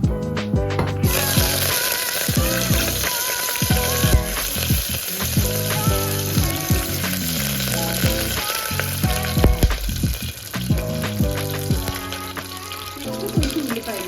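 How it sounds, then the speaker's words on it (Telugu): Peppercorns, cardamom pods, cloves, a piece of cinnamon and curry leaves sizzle in hot oil for a mutton clear soup, a steady bright crackle running beneath prominent melodic background music with occasional stirring clinks. "కొన్ని మిరియాలు, 2 యాలకులు, ఒక 5-6 లవంగాలు, చిన్న దాల్చిన చెక్క, ఇవి ఆయిల్లో వేసుకుంటాం"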